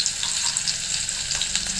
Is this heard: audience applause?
no